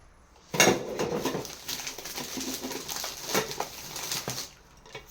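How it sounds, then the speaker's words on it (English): Groceries spill and rattle into a pasta container with a loud opening clatter, then a stretch of rustling, knocking and shifting items, close up and with no talking. "this is pasta container where I will be dropping some of my stuff."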